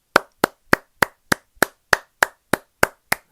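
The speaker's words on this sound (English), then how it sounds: "That's the applause. That's for you, NBA." Eleven sharp, evenly spaced hand claps ring out alone, close and loud, in a slow, steady rhythm.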